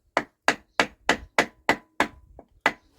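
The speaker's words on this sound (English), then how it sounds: "we have a bit of wood and a hammer" Eight or nine even, close taps of a hammer striking a piece of wood held against a magneto on an old Barford and Douglas engine, each a crisp woody knock in a steady rhythm.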